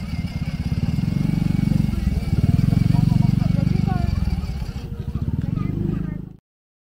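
A motorcycle passing by on a residential street on an overcast afternoon, its engine a loud continuous buzzing drone close by that fades slightly and cuts off abruptly at the end.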